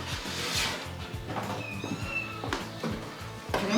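Young kittens meow repeatedly at close range, in small overlapping cries with short pauses between them.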